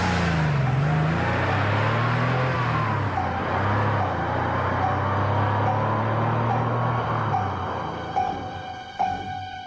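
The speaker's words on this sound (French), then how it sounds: "Et la voiture de monsieur Timothée Eustache McCandall s'éloigne" A car drives off in a radio drama, its engine revving and shifting steadily under loud road noise, then fading away near the end.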